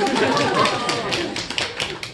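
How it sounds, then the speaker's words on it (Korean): A small group claps during a Korean study class session, brief scattered hand claps with tapping texture overlapping a voice. "박수 한번 쳐도 돼요."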